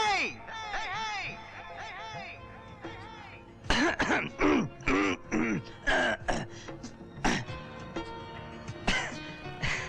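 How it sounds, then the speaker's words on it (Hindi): A man clears his throat in several rough, guttural bursts, some bordering on coughs, amid groan-like vocal sounds at close range, with music-like tones in the background. "मैं गला साफ कर रहा था।"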